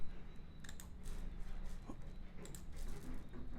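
Mouse clicks land softly in a quiet room as a link is selected on a computer, a few faint scattered taps with no voice.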